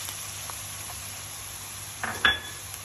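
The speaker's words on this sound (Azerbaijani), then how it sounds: "Soğanlarımız kızardı. İndi biz bura ətimizi əlavə edirik." Diced meat added to a pan of fried red onions for fajitas gives a soft, steady sizzle, and a brief metallic clank from the pan or utensil sounds near the end.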